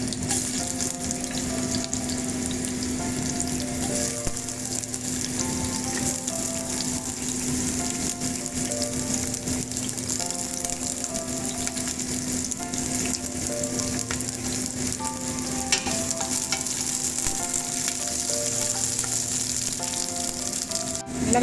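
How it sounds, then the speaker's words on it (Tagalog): Onion sautés in hot oil for chicken feet adobo, giving a steady, close sizzle and crackle that runs unbroken for over twenty seconds with no talk. "Gigisa na po tayo"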